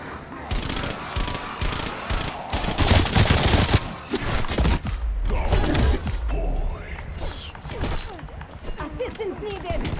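Gunfire from the video game Black Ops Cold War during zombie shooting with a new gun, dense rapid bursts and mechanical clicks that build, then thin out toward the end.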